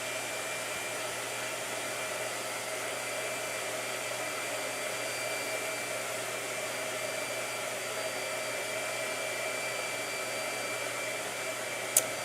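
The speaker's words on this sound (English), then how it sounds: "Blow dryer." A blow dryer runs steadily and close by for the whole stretch, a constant whooshing hum with no talk over it and a brief click near the end.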